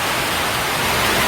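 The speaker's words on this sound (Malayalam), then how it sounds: "മഴ വീണ്ടും കൂടി, ഇതാ ഇപ്പം വീണ്ടും കൂടി മഴ." Dense, steady hiss of heavy rain filling the whole clip, loud and unbroken with no voices.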